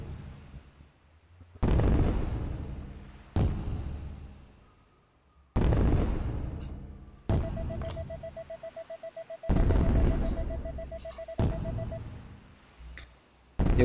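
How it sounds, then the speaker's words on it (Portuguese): Festival fireworks in the Harvest Moon: Back to Nature game launch in a series of loud booming bursts, each followed by a fading crackle and tail, with a steady whistling tone rising under one volley; no talk. "agora nós podemos assistir o lançamento dos fogos como um lindo casal"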